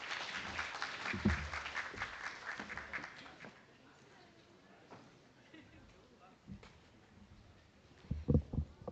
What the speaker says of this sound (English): Let us give a warm round of applause for Colonel Francel Margaret Taborlupa.